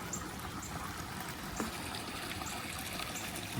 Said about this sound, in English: You see the creek flowing under the bridge and out to the second pond